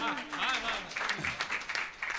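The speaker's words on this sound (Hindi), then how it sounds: "एक बार तालियां बजा।" Applause from an audience at a Hindi kavi sammelan after a poetess finishes a recital, a brief round of clapping heard together with a speaking voice.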